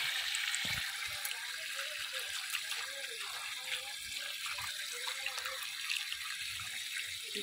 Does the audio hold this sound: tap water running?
yes